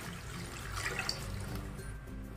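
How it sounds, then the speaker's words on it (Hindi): Water poured into a cooking pan on a gas flame while making Odia bhindi khatta with mustard masala, a soft, rushing, bubbling gush that stays steady and fairly faint, with no talk. "ऐड करिबा पानी,"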